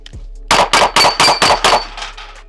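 Six rapid pistol shots in quick, even succession, each followed by a ringing clang as steel plate rack targets are struck, heard close and loud at a USPSA practice.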